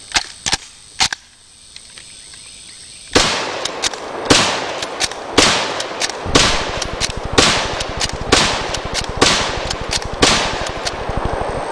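An old gun fires in a series of sharp, loud reports, a few scattered shots at first, then a rapid run of cracks at a steady rhythm, each with a short ringing tail.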